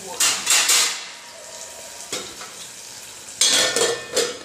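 Okra (lady finger) frying in a little oil while being stirred in a home kitchen pan, bursts of sizzling and scraping spoon clatter in several close, loud rounds.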